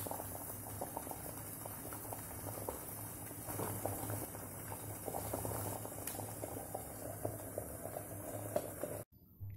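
Pierogi dumplings simmer in a pot of boiling water, a steady close bubbling and gentle rolling patter that runs evenly throughout before cutting off abruptly near the end, with no voices.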